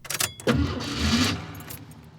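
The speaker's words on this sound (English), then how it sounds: "scared of turning the key to start her car" Keys jingle briefly, then a car engine cranks and catches with a loud rumbling surge that slowly settles, in a scene from the film The Irishman.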